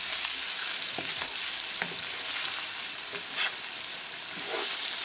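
Tofu stir-frying in a pan over medium gas with salt, cumin, black pepper and chili flakes, a steady close sizzle broken by a few soft clicks and scrapes as pieces are flipped, no voices.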